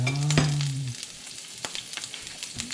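Garlic scapes sauté in hot oil in a backyard kitchen, giving a steady sizzle with a few sharp stirring clicks and taps; a brief tonal whine sounds near the start.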